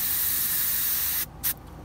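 An airbrush with a 0.5 nozzle sprays primer onto an Eduard M4A1 model kit, a steady close hiss that breaks off for a moment, gives one short burst, then a fainter hiss.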